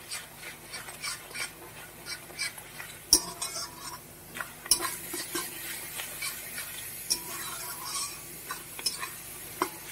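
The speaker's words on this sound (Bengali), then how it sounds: "দিয়ে মশলাটা কষাতে থাকবো।" Mutton sautéing with cumin, chilli and turmeric powders, a soft sizzle under frequent spoon scrapes and metallic clinks against the pot, with a few sharper knocks; no voices.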